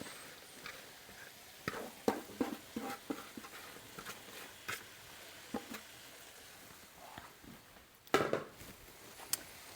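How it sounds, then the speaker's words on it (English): A spoon knocks and scrapes against a slow cooker while meat is stirred into a vegetable gravy for beef barley. The clinks are sparse and irregular, mostly faint, with one louder clatter near the end. "I am just going to stir this to combine with our delicious vegetable kind of gravy mixture here"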